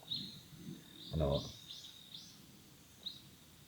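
Short high chirps of birds and insects repeat sparsely in a quiet mountain forest, with a brief voice murmur in between and soft background hum.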